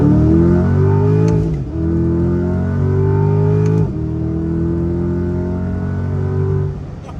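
Chevrolet Corvette C8 Z51 engine accelerating hard, loud and close, its rising tone climbing through two gear changes with brief dips between pulls.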